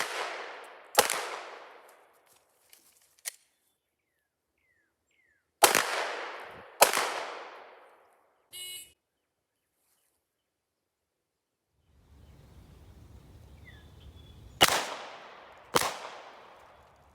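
Glock 19 pistol shots fired during a Nevada law enforcement qualification stage at an outdoor range, sharp cracks in spaced pairs with short echoing tails, separated by long quiet gaps and some low rumble.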